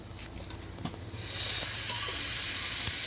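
Pineapple fajita food set on a grill: quiet surroundings for about a second, then a loud, steady hiss of sizzling that holds to the end, with no talking.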